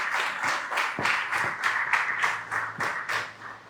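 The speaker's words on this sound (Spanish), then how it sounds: "Por favor, un aplauso para los familiares." An audience applauds for the families of victims of a tragedy in Cúcuta, with steady, dense clapping carrying on throughout at moderate loudness.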